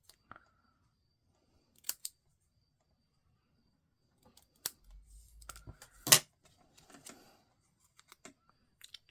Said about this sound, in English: So take some scissors, roughly in the center.